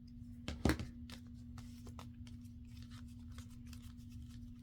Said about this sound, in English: So we'll just trim the little edges.